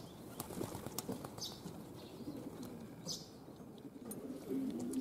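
Young racing pigeons on their first outing from the loft, flapping as they fly and land near the entrance, with soft cooing and wingbeats over a steady outdoor background.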